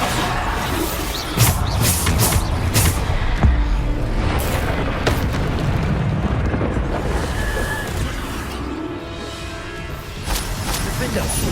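Bombarda spell blasts in the Hogwarts Legacy video game, a dense run of booming, crashing impacts with sharp hits near 1.5 and 4 seconds over a continuous loud game soundtrack, with chanted voice cues in the background.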